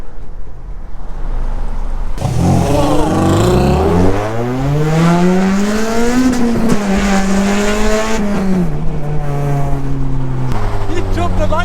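A straight-piped Honda Civic EP3 Type R racing, its engine revving loud and close through rising and falling gear pulls for most of the clip, with voices faintly present under the roar.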